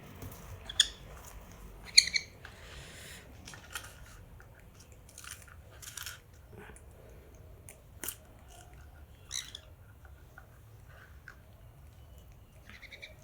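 A lorikeet chick is hand-fed, with soft wet gulping and chewing sounds and several brief sharp squeaks scattered through an otherwise quiet, close recording.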